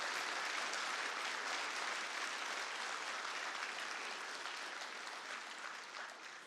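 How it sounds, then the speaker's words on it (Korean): A church congregation at a Sunday worship service applauds warmly for the choir and a solo singer, a dense, sustained wash of many hands clapping that carries steadily throughout and tapers slightly toward the end. "독창해 주신 분을 위해서 한번 뜨거운 박수로"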